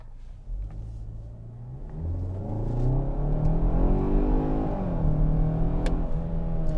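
A 2021 Kia Sorento S family SUV with a four-cylinder turbo engine accelerates in sport mode, its engine note climbing steadily in pitch and growing louder from inside the cabin over nearly seven seconds.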